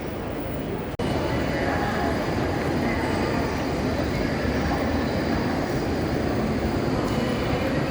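A Paris metro train rumbles loudly in a station, a steady, close roar that follows a sharp knock and continues throughout.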